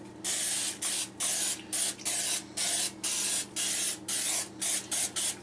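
Nonstick cooking spray is sprayed into a 9 by 5 loaf pan for fruitcake in a rapid run of about twelve short hissing bursts with brief gaps between them, close and loud, with no talking.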